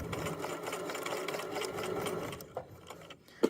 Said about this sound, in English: Sew down that one so I can get to a good spot to sew this last part of my X